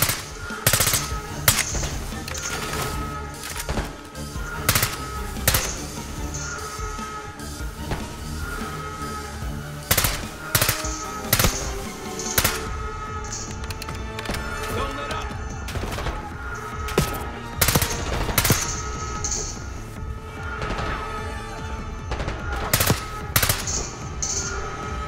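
Rapid machine gun bursts and single shots crack repeatedly in Call of Duty: Black Ops 6, loud and close, with brief pauses between volleys and a few heavy thuds mixed in.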